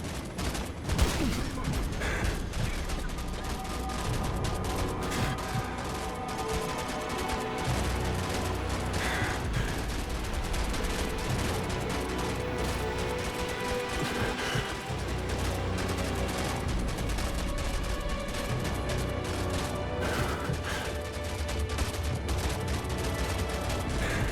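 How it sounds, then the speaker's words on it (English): Dense, sustained gunfire in the Call of Duty 4 rooftop mission: rapid automatic bursts and scattered shots blend with explosions and shouted voices in a loud, continuous battle. "Open fire on the fly! Fire! Fire!"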